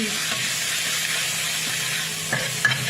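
Chili and garlic stir-fried in hot oil for Thai basil shrimp, a steady close sizzle with stirring scrapes throughout and a couple of sharper clinks near the end, no talking.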